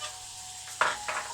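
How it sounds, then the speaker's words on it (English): Butter in a hot pan for a chicken, chestnut mushroom and back bacon pie gives a steady faint sizzle, broken by a couple of short scraping stirs near the end. "I want a bit of sizzle."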